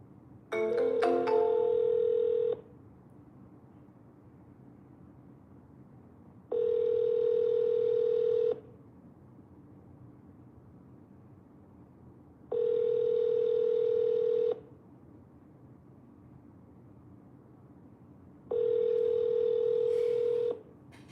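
Telephone ringback tone on a sales call, four evenly spaced two-second tonal bursts repeating about every six seconds with quiet gaps between, steady and clear with no talking.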